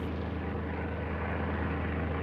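Continuous droning roar of a Mitsubishi A6M Zero World War II fighter's piston engine and propeller, loud and steady throughout with no voices.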